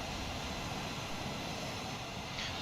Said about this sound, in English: The engines are loud.